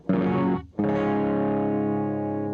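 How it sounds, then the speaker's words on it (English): A Fender Telecaster electric guitar played with the tone knob fully rolled off gives a dark, mellow sound: one strummed chord cut short, then a second chord left ringing and slowly fading, close and loud through a slightly distorted amp. "Roll all the tone off."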